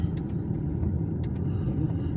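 A car on a hill road drives on with a steady low rumble and road noise, the engine droning close and continuous throughout.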